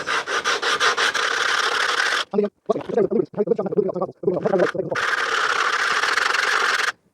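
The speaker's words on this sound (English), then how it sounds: "I'm going to carry on rubbing it on the 80 grit just to remove the worst" A 100-year-old wooden hand plane is rubbed back and forth on 80 grit abrasive, giving loud rasping strokes in a rapid rhythm, broken midway by a stretch of closer uneven scraping before the steady strokes resume.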